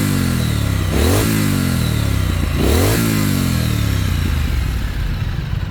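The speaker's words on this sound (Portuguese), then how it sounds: "nela ainda até 80 por hora você está escutando legal o ronco da moto" A Ducati Scrambler 900 motorcycle roars under acceleration, its loud engine note climbing in pitch twice in quick succession before carrying on at a steady, full-bodied drone.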